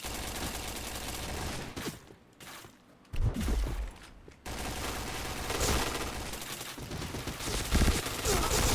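Rapid video-game gunfire rattles in continuous bursts from automatic weapons during a shooter match, loud and dense with brief pauses, while a voice speaks faintly underneath.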